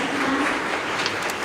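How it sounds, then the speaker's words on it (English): A conference audience at a 2017 art-and-science panel session gives the panelists a round of applause, a short, even wash of clapping from many hands with no voices over it. "please give the panelists a round of applause"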